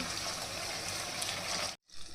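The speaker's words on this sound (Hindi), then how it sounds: "अब हम इसमें डालेंगे पानी।" Water poured into a pot of partly cooked potatoes, a continuous gushing splash that stops abruptly near the end, then a brief softer rustle follows.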